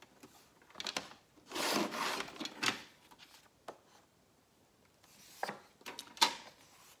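Short bursts of a blade scraping and cutting through paper for a handmade mini album, close and fairly quiet, in uneven strokes separated by pauses.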